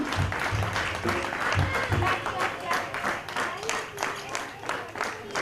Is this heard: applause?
yes